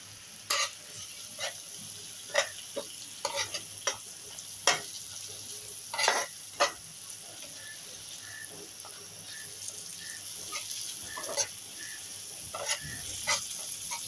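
Prawns sizzle steadily with spices in a hot pan, with occasional scrapes and clinks of a utensil stirring them.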